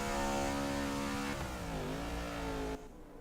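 A race car engine revs at high pitch in a racing video game during an All-Star event, the tone sweeping down and back up as the car slides through a turn, loud and steady before dropping off.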